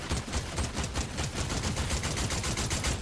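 Rapid gunfire in Fortnite, loud and dense automatic bursts repeating steadily throughout with no pauses.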